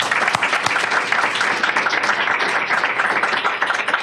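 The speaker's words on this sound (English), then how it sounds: "let's give them a round of applause" Loud, sustained applause from a crowd at a ribbon-cutting ceremony, dense clapping that holds steady throughout without a break.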